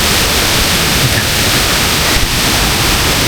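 Rushing water at Erawan waterfall, a steady broadband roar of falling and churning water that fills the whole clip, loud and close with no voices over it.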